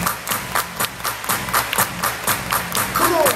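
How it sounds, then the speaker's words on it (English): An audience at a talent show claps their hands in a steady, evenly spaced rhythm of sharp claps, with a voice calling out faintly in the background. "Everybody clap your hands."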